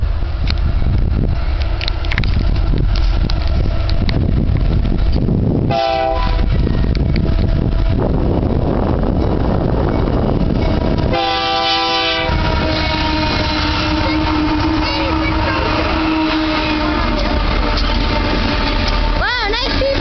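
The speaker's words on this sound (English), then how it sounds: "And this time it's a nice CP grain train." A slow CP grain train passes a road crossing in Winnipeg, Manitoba with loud continuous rumble and wheel clatter, plus two sustained horn blasts, heard close with some talking.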